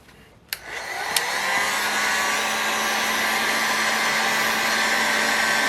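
A heat gun or dryer clicks on and settles into a steady, loud blowing whir while warming the engine housing of a Saito FA 300T before bearing installation.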